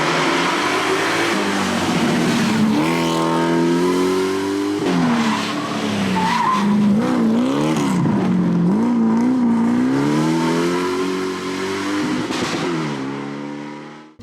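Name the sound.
Mercedes R107 coupe with M117 V8 rallying on dirt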